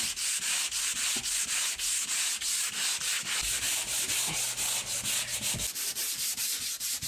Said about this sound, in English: Now y'all can just imagine me sanding for a very long time